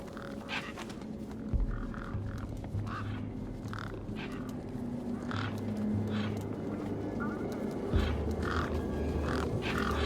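Crows caw and squawk in Beyond a Steel Sky near the back of a truck, several harsh calls bursting out over a low droning background with deep thuds at intervals.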